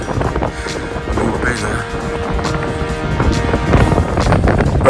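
Strong wind on the clifftop at Beachy Head buffets the microphone in loud, continuous roaring gusts, with a low rumble throughout and no clear speech.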